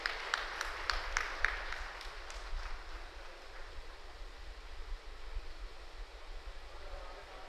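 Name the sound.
applause for award-winning students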